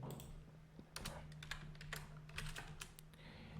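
Typing on a computer keyboard, up close: rapid irregular key clicks and clatters with brief pauses, steady over a low electrical hum.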